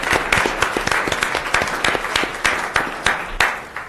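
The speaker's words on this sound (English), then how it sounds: "Let's give her a round of applause." Applause at a city council meeting, a modest round of fairly close, uneven clapping from a small group, with individual claps standing out.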